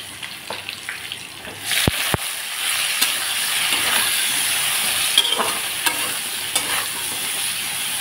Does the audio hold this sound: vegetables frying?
yes